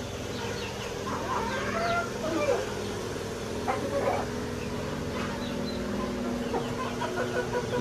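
Chickens and roosters in a backyard coop cluck and call softly at a moderate distance, with a low, steady background hum and a person speaking over the birds.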